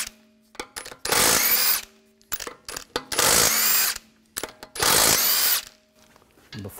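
A power tool with a 17 mm socket spins lug bolts off a 2004-2009 Audi A4 Quattro wheel: three loud, close whirring bursts about a second long each, with clicks and clatter between them.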